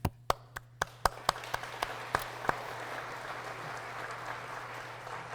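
Applause at the 2024 Colorado Book Awards for the winners and finalists: a few sharp, separate claps at first, then a steady, dense patter of many hands filling the room at moderate loudness.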